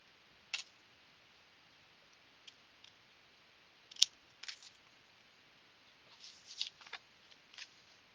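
Scissors trimming folded craft paper, a few faint, quiet snips scattered across a hushed room, with a small cluster of cuts toward the end.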